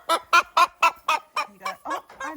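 Farm fowl, likely a chicken disturbed near hay bales and eggs, gives a rapid series of about nine sharp, fairly loud clucks or honks in steady rhythm, close by and without talk.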